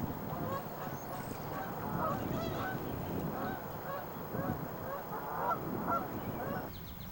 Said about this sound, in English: A dozen or so Canada geese will call the pond home.